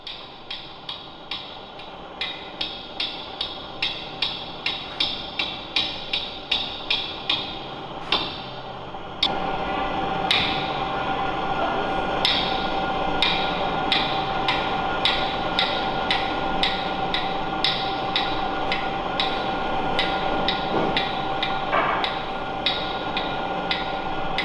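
Repeated hammer strikes on a caulking iron driving cotton and oakum into the seams of a wooden boat, a steady rhythm of sharp metallic taps, quicker and lighter at first, then louder blows over a busier workshop background.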